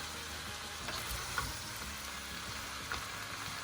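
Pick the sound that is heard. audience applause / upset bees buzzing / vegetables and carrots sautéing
vegetables and carrots sautéing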